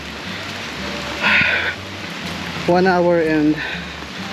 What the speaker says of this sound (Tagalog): It's raining already.